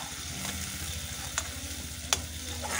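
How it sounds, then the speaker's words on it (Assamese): Local chicken and potatoes fry in oil with a dense, steady sizzle close by, broken by two sharp clinks of a spoon or ladle against the pan. "ইফালে লোকেল মুৰ্গী আলু দিম ভাজিছোঁ"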